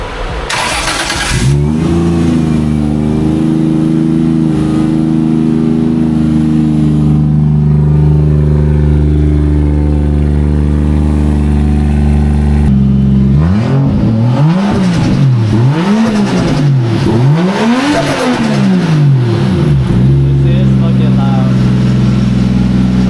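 Nissan S13 coupe with a 1JZ turbo engine, heard close and loud as it fires up, settles into a rough idle, then blips through a series of sharp rising and falling revs.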